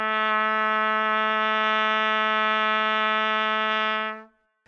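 A trumpet holds one steady low note with the second valve down for about four seconds, close and full, ending cleanly.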